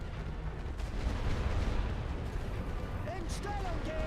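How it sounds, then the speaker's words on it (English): Artillery barrage in the World War I strategy game The Great War: Western Front, heard as a dense rumbling roll of distant shell bursts and booms, with faint whistling near the end. "look at all that artillery they've got."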